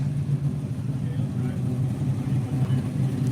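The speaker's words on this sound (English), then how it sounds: "We got a Supra coming down the line here." A Toyota Supra rolls down the line at a car show at a dragway, its engine a steady low rumble close by with people talking over it.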